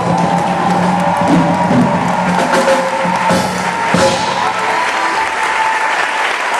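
A church congregation at an evangelical service applauds and cheers loudly and continuously, dense clapping with scattered shouts and whoops filling the room throughout.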